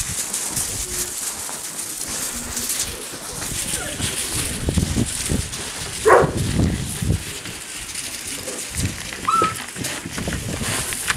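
Puppies whimper and yip among a larger family of dogs, with occasional soft barks and birds cooing in the background under a person speaking gently.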